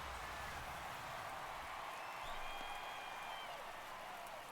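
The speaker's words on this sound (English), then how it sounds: "Crowd on their feet." In a baseball video game's playoff game, a stadium crowd cheers and applauds during a tense 2-2 count. The roar is faint and distant, a continuous wash of noise that holds steady throughout.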